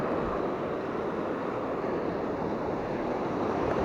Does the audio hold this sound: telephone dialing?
no